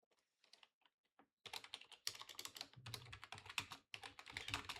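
Rapid typing on a computer keyboard, close and clear: a few sparse keystrokes first, then a dense, steady run of clicks that carries on to the end with no talk.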